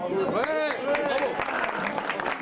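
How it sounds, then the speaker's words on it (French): An audience at a world cup event in Le Mans claps for vice world champions, with a continuous patter of applause and crowd noise under a voice that sings or calls out over the top. "On les applaudit bien fort."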